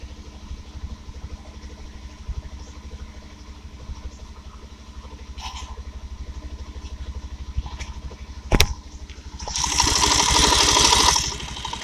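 A Bajaj Pulsar 150 BS6 motorcycle with a faulty fuel pump runs at idle with a steady, close putter, broken by a sharp click and then a louder, hissing rev near the end.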